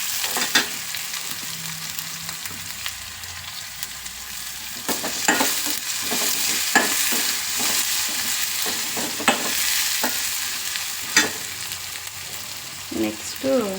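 Fenugreek leaves fry in oil for egg pulao, with a continuous sizzle and frequent scraping stirs of a spoon against the pan, close and fairly loud.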